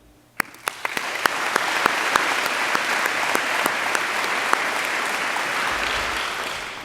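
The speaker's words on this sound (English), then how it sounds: "Student athletes, please stand and join me in giving all of our supports a massive round of applause" A crowd at a school sports recognition ceremony breaks into applause, starting with a few sharp individual claps that quickly swell into a full, sustained ovation.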